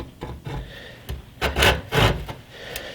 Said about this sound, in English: Now I'll get in there with a slightly coarser saw.